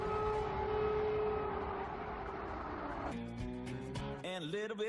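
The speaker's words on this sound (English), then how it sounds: "While air raid sirens are going off, CNN cut to a commercial for Applebee's." Air raid sirens wail on a live TV news broadcast, a faint, sustained rising tone heard through the set before abruptly cutting to a different program with music and varied sounds.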